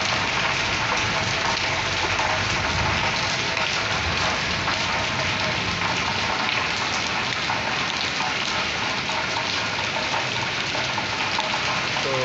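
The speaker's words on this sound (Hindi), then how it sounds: "ये पीछे बोर्ड पर बारिश हो रही है इस्लामाबाद में" Steady heavy rain pours onto a board outside an office in Islamabad, a dense continuous hiss of drops with no pauses and no talking.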